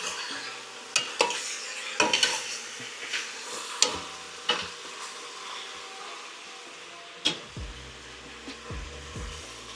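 Oxtail searing and being stirred in a pot for a Jamaican dish, with steady sizzling and occasional sharp scrapes and clinks of a utensil against the pot, close, ending in a low rumble.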